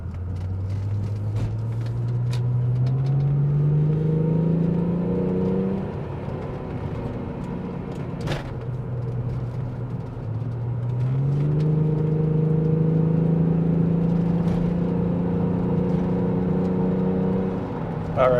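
A supercharged VR6 Volkswagen Corrado on a test drive accelerates through two long pulls, the engine note rising steadily in pitch from inside the car, with a gear change and easing off between them.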